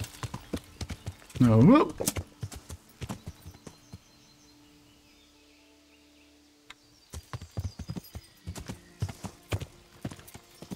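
Horse hooves clip-clop in the Kingdom Come: Deliverance video game, an uneven run of close hoofbeats with a loud whinny early on. A stretch of near quiet follows before the hooves resume, and someone speaks briefly.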